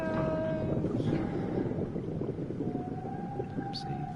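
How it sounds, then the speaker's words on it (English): An eerie underwater whale call from the video game SOMA moans in long drawn-out tones over a dense, rumbling static hiss, with a rising wail near the end and no talk. "it's a whale. The whale's giving you static."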